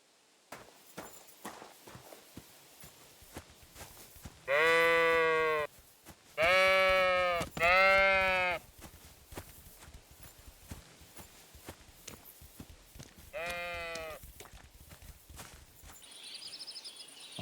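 Sheep bleating in the video game Kingdom Come: Deliverance II, several loud close bleats in two bursts then a third, over quiet footsteps and outdoor ambience.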